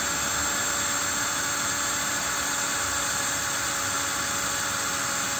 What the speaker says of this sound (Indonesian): Kita lihat apakah bisa memutar bor